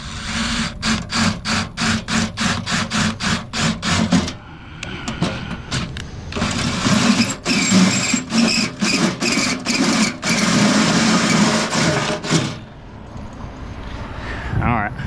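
Hole saw cutting into an aluminum traffic light box, heard as loud rapid rhythmic grinding bursts up close, broken by short pauses, with someone speaking briefly.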